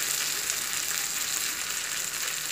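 Anchovies (nethili fish) deep-fry in hot oil, a loud, dense, continuous crackling sizzle held evenly throughout, close and alone.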